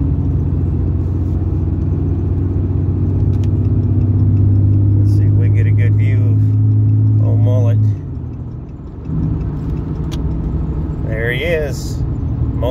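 A powerful car pulled behind a pickup truck drives by at a car event, its deep engine rumble steady and loud, then dropping away as it passes. People talk nearby.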